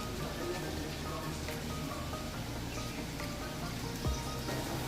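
Steady rain falling during wet weather in La Union, a broad continuous patter with faint drips, holding an even level throughout with no voices.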